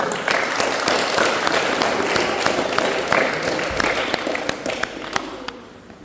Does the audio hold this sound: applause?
yes